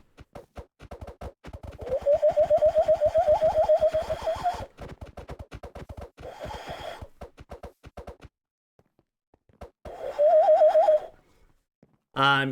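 A person imitates a cooing bird call with the voice, in warbling bursts broken by gaps and rhythmic mouth clicks, close and loud.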